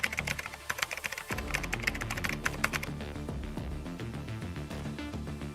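Rapid clicking of keys on a computer keyboard, a dense close burst of keystrokes at first that settles into steadier, softer typing over low background music.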